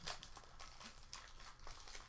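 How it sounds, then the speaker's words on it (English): A wrapper on a 1990-91 Skybox basketball card pack is opened, giving soft, close crinkles and a few sharp crackles of foil-like packaging, faint and with no one talking. "go ahead and open another pack"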